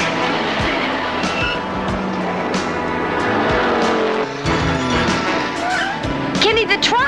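Car in a handbrake turn, tires skidding and squealing over revving engine noise, loud and close, with voices talking over it and a sharp squeal near the end.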